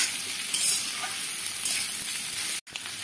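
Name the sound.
ginger being stirred and frying in a pan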